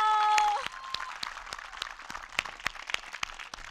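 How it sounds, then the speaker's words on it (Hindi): Children clapping after a storytelling session at a festival: a brief tonal whistle at the start, then sparse, scattered claps of modest loudness that come irregularly rather than as a full, dense round of applause. "तो जोरदार ताली बजाओ।"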